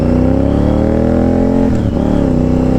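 Honda VTR 1000 motorcycle idling close by with a strong, steady low engine rumble, then a brief dip as it pulls away.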